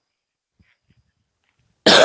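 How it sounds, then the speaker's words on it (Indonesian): A single sharp cough bursts loudly at the very end after near silence, from a person who has a cough and is talking about stomach acid trouble. "saya lagi batuk."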